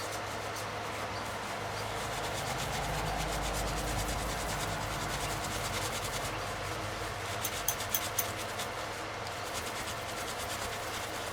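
Steady dry rubbing and scraping on a wooden ink pad storage unit continues throughout, close and moderately loud, with a few sharper clicks near the end and no talk.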